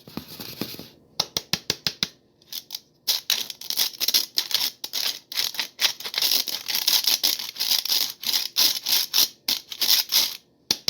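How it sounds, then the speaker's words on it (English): Dry ingredients for an orange chiffon cake sifted through a mesh sifter: a close series of quick tapping and rattling bursts, irregular and crisp, with short pauses between shakes. "anything that doesn't fit through this sifter isn't going into our batter"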